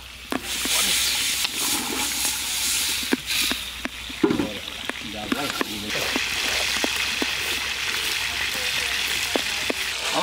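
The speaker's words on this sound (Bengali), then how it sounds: "পানি গরম হয়ে গেছে, ভাতে চালটা দিয়ে দিলাম।" Raw rice goes into a pot of boiling water: a steady bubbling, hissing wash with scattered grain-like clicks and a louder splashy burst midway, heard close with a voice talking over part of it.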